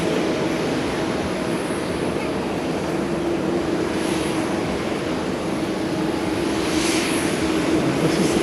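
Jet airliner taxiing at Haneda airport, a steady broad engine rumble and whine that holds loud and even throughout, with no voices.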